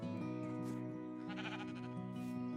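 Sheep bleat repeatedly near a farm pen, the calls close and loud, overlapping in a steady run of wavering cries without any voices.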